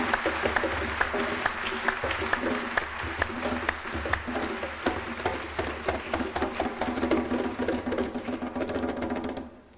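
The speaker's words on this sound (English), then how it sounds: "Can we give him again another round of applause?" An audience in a lecture hall gives sustained, loud applause after a talk on ancient Egypt, dense rhythmic clapping that continues for several seconds before tapering off at the end.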